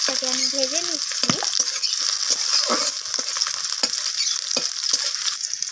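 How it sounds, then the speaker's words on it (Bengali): Sliced onions frying in oil for a chorchori with prawns and vegetables, a steady loud hiss and crackle with sharp spoon-stirring scrapes throughout; a brief voice passes in the background early on. "তো পেঁয়াজটাকে আমি হালকা লালচে রং ধরা পর্যন্ত পেঁয়াজটাকে আমি ভেজে নিচ্ছি।"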